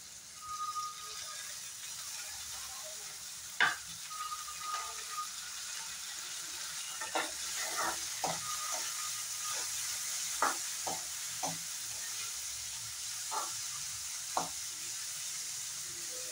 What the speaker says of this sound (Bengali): পেঁয়াজটার মধ্যে কালার আসা পর্যন্ত একটু ফ্রাই করে নেব।